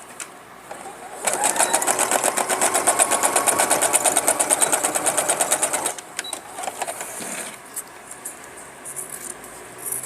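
A sewing machine stitching a pouch made from a milk carton runs in one long fast burst of rhythmic mechanical clatter for about five seconds, then stops, followed by a few faint handling sounds.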